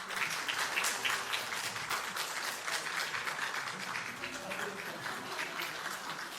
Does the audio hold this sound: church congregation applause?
yes